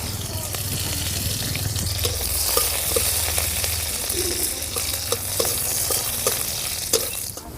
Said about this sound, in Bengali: আমি কিছুটা রসুনের কোয়া ব্যবহার করছি দিয়ে দিচ্ছি সর্ষের তেলের মধ্যে